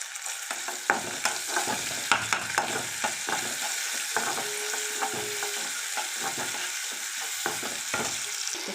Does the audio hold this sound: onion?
yes